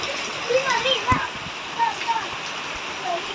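Steady rain from a typhoon pours and splashes nearby, with children's voices calling and chattering as they play in it, over the wet, hissing background.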